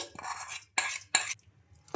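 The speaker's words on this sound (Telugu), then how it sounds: "ఇలా బాగా మిక్స్ చేసుకోవాలి" A spoon scrapes and stirs through puffed rice batter in a bowl in a few short, close bursts separated by brief pauses.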